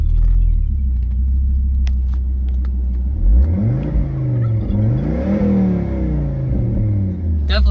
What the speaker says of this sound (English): Definitely has an exhaust done to it.